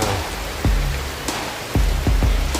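Steady rain hisses across the whole clip, with a few dull low thumps of drops striking a surface nearby.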